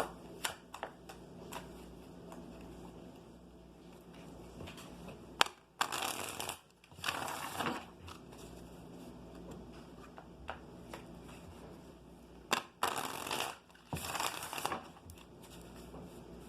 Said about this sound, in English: Shuffle real good.